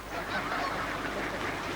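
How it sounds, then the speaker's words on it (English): Many ducks call inside a fox-proof enclosure, a continuous overlapping chorus of honking quacks at moderate distance, with no talking. "there's just loads of ducks everywhere"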